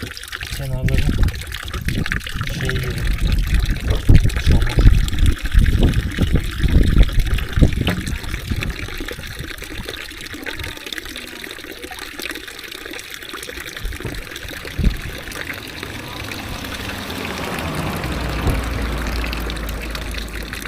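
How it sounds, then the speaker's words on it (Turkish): Cold water running from an outdoor village fountain near Gölköy, Bolu, a steady splashing trickle heard close by, with people talking over it and a deeper rushing flow toward the end. "Çeşmeyi bulduk."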